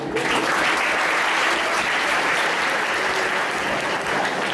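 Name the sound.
children clapping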